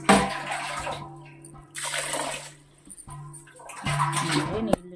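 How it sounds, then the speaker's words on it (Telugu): Raw rice being washed by hand in water to make ariselu sweets, with splashing and swishing in three bursts separated by quieter pauses, close and fairly loud. "నీళ్ళు ఇలా తెల్లగా వచ్చేదాకా మనం కడుక్కోవాలండి బియ్యాన్ని"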